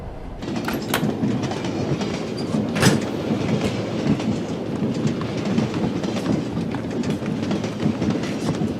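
Steady rhythmic clickety-clack of a passenger train wagon rolling along the rails, a continuous loud rumble filling the interior with no voices.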